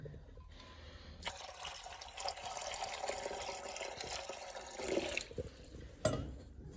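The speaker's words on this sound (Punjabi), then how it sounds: "ਇਹ ਤੇ ਨਿੱਗਾ ਪਾਣੀ ਪਾ ਦਿੰਦੇ ਆ ਜੀ" Water splashes steadily for about four seconds as it is poured into a pigeon enclosure, fairly close and with no voices. A brief clatter follows near the end.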